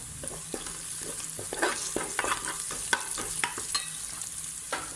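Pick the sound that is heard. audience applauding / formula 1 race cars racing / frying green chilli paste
frying green chilli paste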